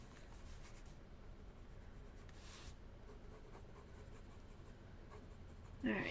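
A colored pencil scratches across paper in faint, soft strokes, a quiet continuous rubbing with brief louder bursts, ending with a short knock near the end.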